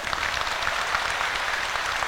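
A crowd at a religious lecture bursts into loud, dense applause, a brief continuous wash of many clapping hands.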